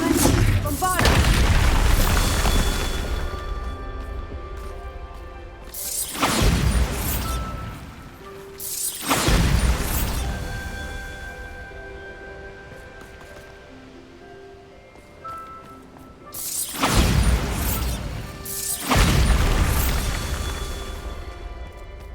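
Bombarda spell explosions go off in the Hogwarts Legacy video game as about five heavy, booming blasts at irregular intervals, each fading into sustained game music tones between them.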